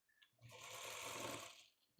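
Sewing machine stitching cotton quilt blocks in a flip-and-stitch method, a single steady whirring run of about a second and a half, close and clear with no talk over it.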